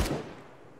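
A PKM machine gun fires in Arma 3: one loud, close blast that rings out into a decaying echo tail.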